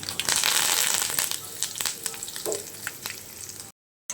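Curry leaves sizzle as they hit hot oil with fried dry red chillies while a tomato mint chutney is being made, a loud crackling hiss that fades over a few seconds and then cuts off.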